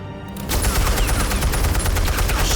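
Rapid automatic gunfire erupts suddenly in a video game and continues as a dense, loud, unbroken burst of shots.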